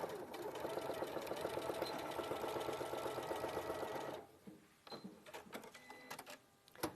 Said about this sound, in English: And I'm just going to sew it a couple of times.